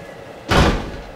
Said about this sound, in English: He could hear him opening the door of the cubicle and walking out.